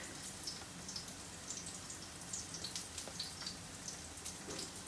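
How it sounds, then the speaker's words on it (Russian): Steady rain mixed with small snowflakes falls with soft, scattered drops pattering on a surface, quiet and continuous with no voices. "Дождь идет у нас, но и есть небольшие хлопья снега."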